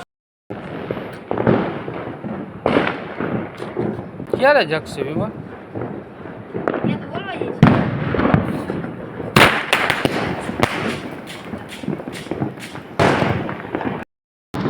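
Diwali fireworks and firecrackers burst in repeated sharp bangs and crackles, some loud and close, others trailing off, across nearly the whole stretch while people talk and call out over them.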